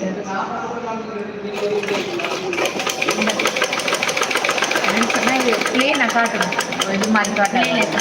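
A sewing machine stitches a line along lining fabric in a fast, steady mechanical rattle, starting after a short pause and running on continuously, close by, while someone speaks over it.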